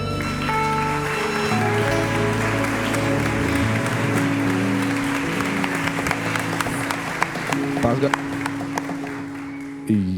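A congregation at a youth worship service claps along over lingering music, a steady crowd patter that grows more distinct toward the end with a few sharper individual claps.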